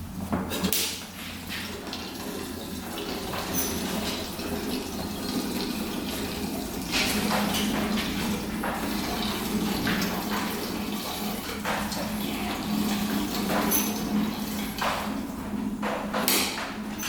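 Two-stroke fuel mixed 40-to-1 is poured into a 1980s barn-find dirt bike as a steady, close liquid gurgle and splash that runs continuously throughout, with occasional small clunks.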